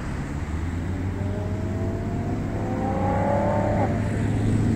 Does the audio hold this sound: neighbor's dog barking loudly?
no